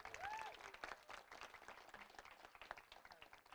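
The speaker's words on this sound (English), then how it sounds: "One more round of applause for Ms. Kaylee Earl." Applause from a crowd at a high school graduation ceremony, a faint, dense patter of clapping continuing for a few seconds with a brief high squeal near the start.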